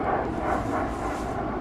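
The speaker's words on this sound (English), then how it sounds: "That's a popular plane, the old tri-jet." Steady, loud roar of a tri-jet airliner's engines at DFW Airport during a night spotting session, a dense continuous rumble with no talk over it.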